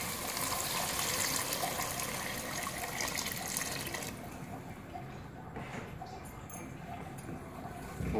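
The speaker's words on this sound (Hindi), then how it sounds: "दाल को हमने 1 मिनट के लिए तेज़ आंच पे भून लिया है, अब इसमें पानी शामिल करेंगे।" Water pouring steadily into a pan of roasted lentils, a continuous splashing rush that softens after a few seconds into a lighter fill.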